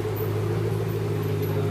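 A Shelby car idles with a deep, steady, truck-like rumble, a constant low drone at fairly low volume with no revving and no voices.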